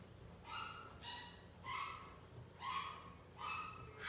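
A dog gives five short, evenly spaced yips or barks that sound distant and faint against a quiet room background.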